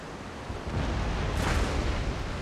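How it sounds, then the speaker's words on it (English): A naval cannon volley from sailing warships in Empire: Total War rolls out as a thick, rumbling blast of overlapping booms, loud and dense throughout with a slight swell midway, and no voices. "Got another volley off over in there."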